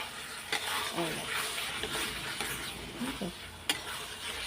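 Ingredients being sautéed and stirred in a pan for a Bengali chana dal, with a steady low sizzle and occasional scraping stirs, a few sharper clinks standing out near the start and end.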